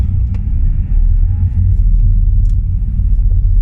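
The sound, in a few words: Mitsubishi Lancer 2009 diesel revving and pulling away in first gear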